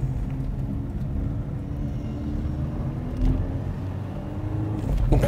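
A manual transmission car drives around a corner with a low, steady engine rumble at moderate volume, a slight rise in revs near the end, and no talk.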